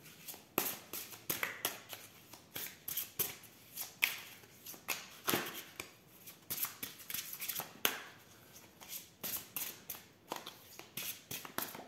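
Tarot or oracle cards riffled and shuffled by hand for a card reading, a busy run of crisp papery flicks and taps that comes in bursts throughout, fairly close with no talking.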